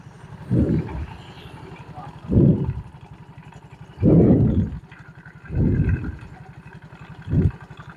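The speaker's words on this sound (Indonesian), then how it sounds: "Ini coba kita nyalakan dulu motornya." A Yamaha Mio GT scooter with a worn CVT and a wobbling rear pulley idles with a rattling low chug, broken by five short, throaty rev bursts spaced a second or two apart.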